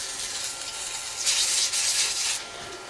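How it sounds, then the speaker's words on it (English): Turned acrylic dry sanded on the lathe with 180 grit sandpaper to knock down ridges left by CA glue, a steady close hiss of abrasive rubbing that swells louder in the middle, with no voices. "I'm going to take 180 grit sandpaper and I'm going to dry sand"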